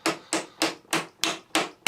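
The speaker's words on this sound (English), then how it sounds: "don't use a hammer, use a nice blunt back of a screwdriver, maybe give it a push for the final way" A plastic peg being tapped into a Hoover Turbopower Junior U1220 vacuum cleaner with the blunt back of a screwdriver: six sharp, evenly spaced knocks, close and loud, each with a short ringing decay.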